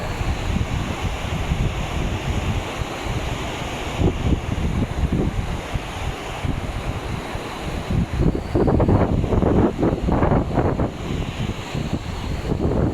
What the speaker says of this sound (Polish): Kurde, ale wieje.